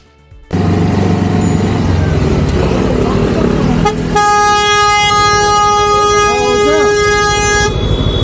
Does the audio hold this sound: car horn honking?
yes